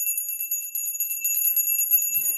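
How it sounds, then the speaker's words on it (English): A bright, high-pitched bell rings steadily with sustained tones and a faint shimmer, staying at an even level throughout. "Let's get this bell ringing"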